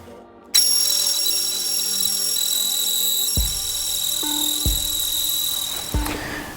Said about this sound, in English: I've drilled a 1/4 inch hole right here.